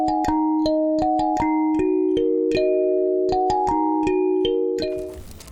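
A modern kalimba plucked in a bright, ringing melody, each tine struck singly or in pairs at a steady, unhurried pace, close and clear with sustained harmonic decay, ending in a brief noisy rustle.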